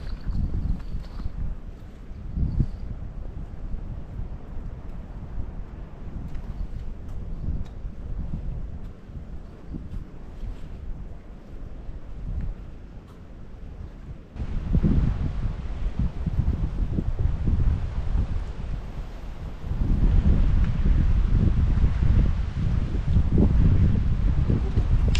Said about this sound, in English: Told you that wind is a pain in the ass.